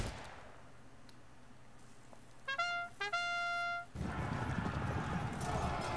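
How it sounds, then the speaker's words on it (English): A horse whinnies in the video game Pike and Shot Campaigns, a short series of bright, stepped neighing calls rising out of a steady battlefield murmur, followed by a surge of rumbling noise. "Is that my horse?"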